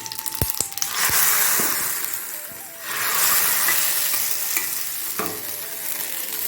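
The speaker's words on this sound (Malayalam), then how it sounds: "ഈ കറിയിലേക്ക് ഇത് കടുക് വറുത്തിട്ടാണ് കേട്ടോ." Mustard seeds fry in hot coconut oil for a beetroot curry with a loud, steady sizzle and a few sharp pops and clicks near the start. The sound is close and continuous.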